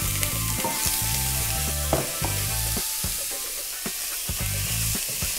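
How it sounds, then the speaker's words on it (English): Onions sautéing in olive oil in a pan sizzle steadily and closely, with occasional utensil clinks and scrapes from stirring over a continuous frying hiss. "we're going to start out sauteing our onions"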